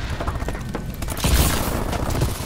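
A Semtex grenade goes off in Call of Duty: Advanced Warfare with a muffled booming blast and rumbling debris, over busy game noise in a short burst.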